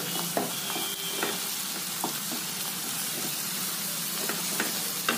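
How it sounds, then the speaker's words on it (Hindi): Ginger-garlic paste fries in a pan for a mushroom and peas curry, a dense, crackling sizzle close to the mic with scattered scrapes and knocks from quick stirring. "अदरक और लहसुन का पेस्ट, वो भी मैं यहाँ पे डाल देती हूँ। फटाफट से इसको मैं चला देती हूँ।"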